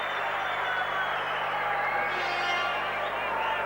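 Crowd at a 1987 football match applauding a substituted player, a steady broad wash of distant clapping and murmur across the stands with a commentator's voice over it.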